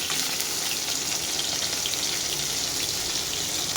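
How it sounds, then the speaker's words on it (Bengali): Pointed gourd (potol) pieces frying in hot oil, a continuous dense crackling sizzle, close and steady throughout, with no voices. "ঠিক এরকম লাল লাল করে পটলগুলোকে ভেজে নেবেন।"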